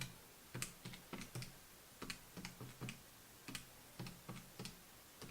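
Numbers are keyed into a calculator: about a dozen light plastic button taps come in short uneven bursts with brief pauses, close and fairly quiet, with no talking.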